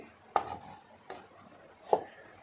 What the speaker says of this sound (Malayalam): നമുക്ക് ചെറുതായിട്ടൊന്ന് അരിഞ്ഞെടുക്കാം